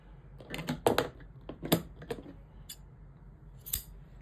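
Scissors snip through fabric repeatedly in short, crisp cuts, close and fairly quiet, with small pauses between the bursts of cutting.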